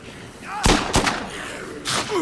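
Gun blasts in Dead Rising 2: a close pair of sharp reports, then a third shot about a second later, with faint game sounds in between.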